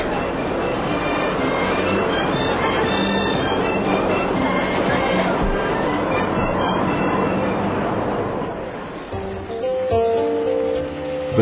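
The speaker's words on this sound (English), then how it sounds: "The Dalai Lama took the train for the first time." Train rolling along a railway carrying a delegation across China, a steady dense rumble with rattling wagons that holds loud and continuous, then eases near the end as brighter squealing and tonal clanks rise over it.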